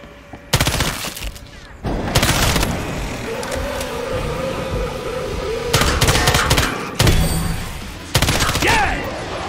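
Gunfire in the video game Killing Floor 2: loud, close bursts of rapid automatic shots in several volleys separated by brief pauses, with game effects and a voice underneath.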